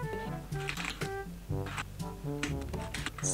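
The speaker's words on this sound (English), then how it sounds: "My Bluetooth keyboard is really not the best to play this." Quick, uneven clicks of keys on a Bluetooth computer keyboard, typed close up in short bursts over a background of melodic game tones from a Python snake game.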